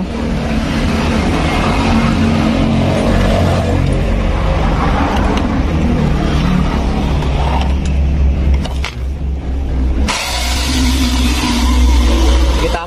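A power drill whirs steadily and loudly, with a brief drop around the middle before the motor picks up again at full speed, while servicing a Honda Vario carburetor water pump seal.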